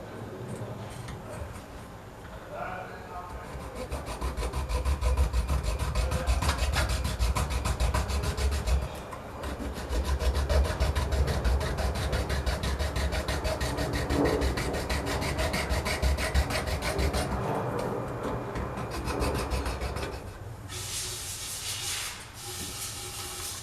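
Steady sawing and rasping as a tool cuts a small edge off a panel to fit a voltmeter, a continuous close, loud rubbing grind that pauses briefly around nine seconds and thins out near the end.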